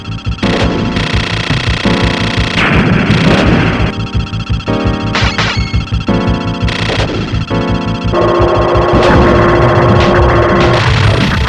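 Gunfire and explosions from a PlayStation shooter video game, with dense bursts of shots and blasts over a loud, tonal game soundtrack that runs continuously throughout.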